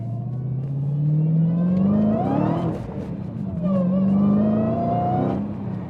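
A Dodge Challenger Hellcat's engine revs hard as the throttle is stabbed, rising in pitch twice in loud, close surges with a deep rumble between pulls.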